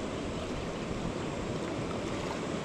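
A fast, deep, cloudy river rushes by in a continuous loud roar of churning water, close and steady throughout with no voices.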